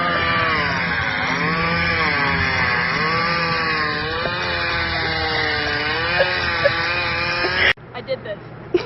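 A chainsaw runs loudly and continuously, its engine pitch rising and falling as it revs, before cutting off abruptly near the end.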